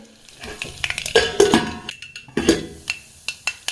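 Mustard seeds drop into hot oil in a pan for a traditional home-style lunch, giving sharp irregular pops and crackles over a sizzling bed, with a few spoon scrapes and clinks nearby.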